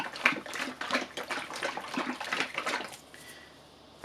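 A plastic bottle of Dutch pour mix, acrylic pouring medium with pigment for fluid art, is shaken hard, giving rapid rhythmic liquid sloshing for about three seconds before it stops and goes quiet.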